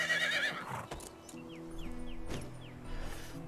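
A horse in the medieval survival game Medieval Dynasty gives a sharp, wavering neigh up close, followed by a few hollow clip-clop hoof steps over a quiet ambient background.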